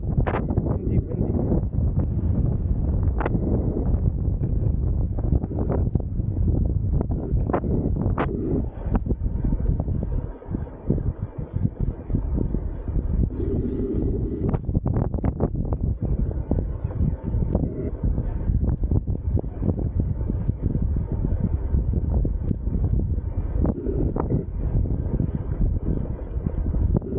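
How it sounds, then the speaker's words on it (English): Steady wind roar buffets the microphone while riding a DYU T1 folding e-bike on pedal assist, loud and continuous with occasional gusty bursts throughout. "Windy, windy."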